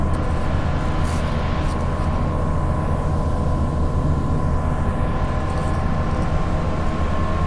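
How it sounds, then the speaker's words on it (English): A Mandurah line train passes near the freeway, a continuous loud rumble with a steady tonal hum throughout, heard from nearby in Perth with no voices. "Oh, trains."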